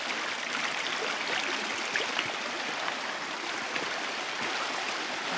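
A waterfall at Machkund rushes with a steady, dense roar of falling water, loud and unbroken throughout with no voices.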